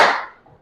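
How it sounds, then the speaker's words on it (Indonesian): A classroom of students claps hands once together, a single sharp, close burst of clapping that decays quickly into quiet within half a second. "Kalau Ibu bilang pagi, kalian tepuk tangan 1 kali."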